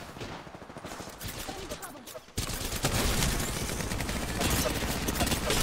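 Gunfire in a shooter video game: quiet rapid bursts of shots at first, then a sudden jump to loud sustained automatic fire layered over crackling shots, dense and close, with faint voices mixed in.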